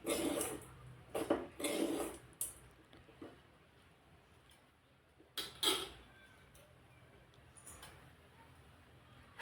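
Green chillies being stirred in a pan while making idli upma: a few soft, scraping clinks of a spoon against metal come in short bursts and leave quiet gaps between them.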